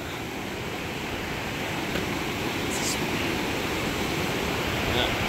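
A raging creek rushes loudly and steadily beside the Hite Bridge, a continuous broadband roar of fast water with no pauses, close and full throughout.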